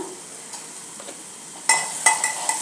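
A besan flour mixture fries in a pan over low heat with asafoetida, giving a soft sizzle that turns into a few sharp scraping stir strokes near the end, with no talking.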